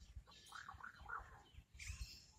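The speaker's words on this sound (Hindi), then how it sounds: "तोतों के झुंड के झुंड कलरव कर रहे हैं" A flock of parrots calls among trees, a run of rising and falling squawks with another burst near the end, faint over wind and low rumble.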